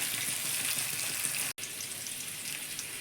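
Potatoes frying in a pan give a steady, close sizzle and crackle that runs throughout, broken once by a brief cut.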